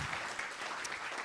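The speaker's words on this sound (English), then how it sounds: "How about a nice round of applause for Sean Bale?" A short burst of audience applause at a science café talk about Pluto, soft and fairly distant, steady clapping with no voices over it.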